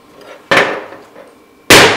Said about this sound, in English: Let's whack it with a hammer.